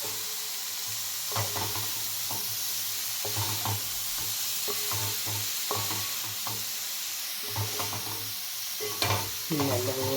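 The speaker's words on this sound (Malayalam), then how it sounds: "നല്ലപോലെ ഇളക്കി യോജിപ്പിച്ച് ഒരു 10-15 മിനിറ്റ് നേരം കൂടിയെങ്കിലും അടുപ്പാലിരുന്ന് ഇതൊന്ന് വേഗണം." Pathiru tossed into a spiced onion-chilli masala, frying with a steady sizzle and hiss while a spoon scrapes and knocks against the pan in irregular strokes, close and continuous.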